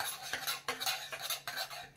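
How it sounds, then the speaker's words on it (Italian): A spoon stirs rice cream baby food in a pot with quick, rhythmic scraping strokes, about five or six sweeps in two seconds, close and alone without talk. "fino a cercare di mescolare in maniera uniforme la nostra crema di riso"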